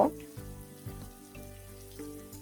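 Black cumin seeds frying in a pan for kalijira bhorta, a faint crackling sizzle beneath background music with a few light taps.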